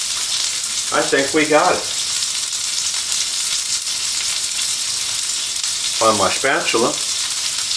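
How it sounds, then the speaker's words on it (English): Salmon sizzles steadily in a pan under a miso maple glaze, a loud continuous broadband fry throughout, with a person briefly talking near the start and again near the end. "Cook frequently, spooning the glaze over the fish for 1 to 2 minutes."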